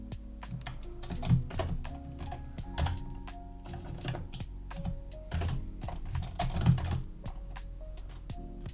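Computer keyboard typing code, a steady stream of close, crisp key clicks in quick irregular bursts with occasional louder keystrokes, heard alone without talk.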